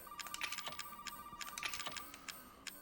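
A telephone rings in the Resident Evil 7 Biohazard video game, a faint, repeated chiming ring pulsing rapidly over soft clicking and a quiet ambient drone, with no voices.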